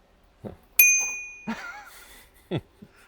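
A bell on a 72V wired Predator e-bike gives one bright, sharp ding that rings out and fades over about a second, close by, with a few soft knocks and clunks around it and no talking.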